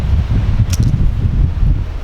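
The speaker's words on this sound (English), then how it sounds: "There's a lot of wind and construction and stuff going on" Wind gusting at the Old Burying Ground, an old cemetery in Beaufort, North Carolina, a loud steady rumble buffeting the microphone throughout, with a brief faint higher rattle partway through.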